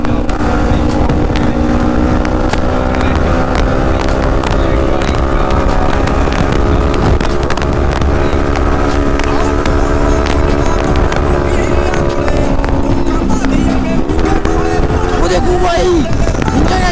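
A Kawasaki Ninja 300 and a Yamaha R15 run a street drag race, their engines droning in a steady, loud, sustained whine that shifts pitch and wavers near the end.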